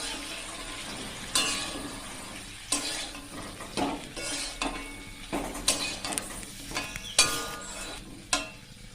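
Okra (lady's finger) fries in a pan with turmeric and salt, a soft sizzle broken by repeated clinks and scrapes as a utensil stirs it against the pan.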